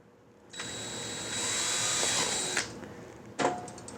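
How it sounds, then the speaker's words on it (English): A power drill with a 1/64 bit bores a small hole in a Hyundai Veloster trunk latch area: a steady whine of about two seconds, then a short second burst after a pause, close and with no talk. "So let's go ahead and drill a hole."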